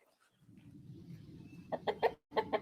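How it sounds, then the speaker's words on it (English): Backyard chickens cluck nearby in a quick series of rhythmic, fairly faint bursts over a low rumbling background, after a short quiet start. "fed my chickens."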